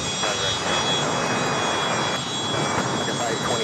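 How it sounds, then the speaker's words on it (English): Turkish Airlines Boeing 777-300ER taking off on the north side at LAX, a steady distant jet rumble with a thin high whine running through it, over a few seconds. "Turkish taking off there on the north side."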